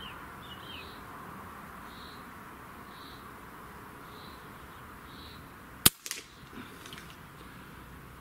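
Airgun shot fired at a target, one sharp loud crack near the end followed by a short softer impact or rattle, with faint quiet outdoor ambience and soft bird calls before it.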